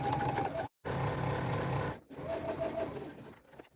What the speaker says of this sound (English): we're going to start at one end with long tails and sew down one long side